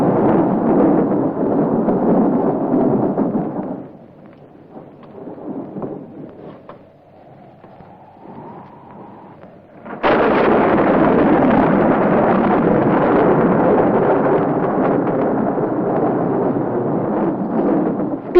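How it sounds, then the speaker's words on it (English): A storm with wind and thunder roars in two loud, dense broadband stretches of rumbling gusts. They are split by a quieter lull in the middle of the clip, and no voices are heard. "Oh, it's a storm."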